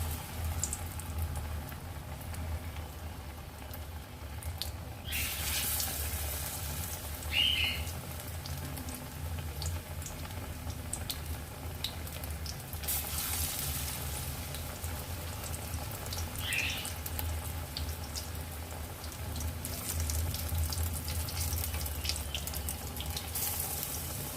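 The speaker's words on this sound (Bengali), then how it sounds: "একটা সাইড ভাজা হয়ে গেছে অপর সাইডটাও ঠিক এইভাবে লাল লাল করে ফ্রাই করে নেব" Banana flower fritters dipped in batter fry in hot oil, producing a soft, continuous sizzle and crackle with a few brief louder bursts, heard close and steady with no talking.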